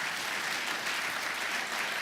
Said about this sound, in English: please appreciate you with a round of applause